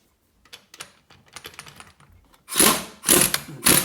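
A 15/16 impact wrench loosening a Classic Mini tapered wheel bearing nut: a few light clicks and rattles, then three loud, harsh hammering bursts close up, each under a second.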